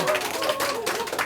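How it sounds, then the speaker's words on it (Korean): A small seminar audience in a meeting room claps in a brief, uneven round of hand claps, close and fairly loud, with some murmuring voices mixed in. "박수라도 쳐주시면 감사하겠습니다"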